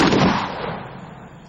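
A shotgun fires an incendiary Dragon Slug round: one loud, close blast that rolls off into a decaying boom, with no voices.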